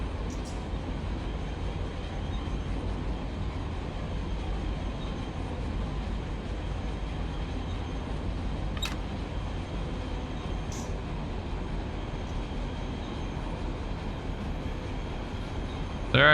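An intermodal freight train rolls past on the Needles Subdivision main line with a steady, continuous rumble and wheel noise, with a couple of faint metallic squeals along the way.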